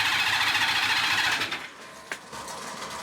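A broken vintage motorcycle engine cranks over with a fast, even mechanical chatter that runs loud for about a second and a half, then cuts out, followed by a brief clunk and a quieter idle hum.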